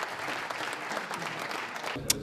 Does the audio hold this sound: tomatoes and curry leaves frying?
no